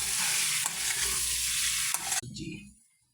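Tadka tempering sizzling in a pan with turmeric, chilli, coriander and masala for a vegetable dish; loud, hissing frying with stirring scrapes, then the sizzle drops off abruptly and fades to near quiet.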